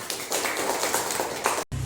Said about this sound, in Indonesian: Tepuk tangan dulu untuk kelompok Patimura, anak